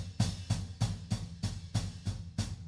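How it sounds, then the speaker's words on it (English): A drummer's left foot straddles the hi-hat and bass drum pedals, giving quiet, evenly spaced thumps with a short metallic splash, about three per second, repeated steadily and alone. "that's my left foot straddling the hi-hat and the left side of the pedal"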